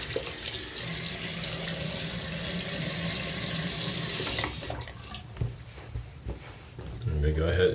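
A bathroom tap runs steadily into a sink as someone wets their face for a wet shave, a loud continuous rush that breaks off partway, leaving quieter splashes and handling noises.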